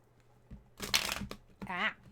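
Brief bursts of riffling as a hefty tarot deck, split in two, is shuffled: a couple of quick papery flutters with a faint soft thump, close and fairly quiet.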